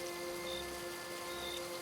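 Steady cartoon-style rain pours without pause over a village scene, a dense even hiss with a faint background hum and no voices.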